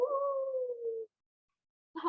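Children imitate wolves with a long drawn-out vocal howl that slides slowly downward and then breaks off, followed by a short burst of voice at the end, in a quiet room.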